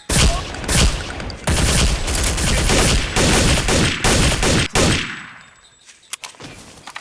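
Automatic weapons fire during a bot firefight in Counter-Strike: Condition Zero Deleted Scenes, loud dense bursts of gunshots for about five seconds, then a few scattered shots and metallic clinks.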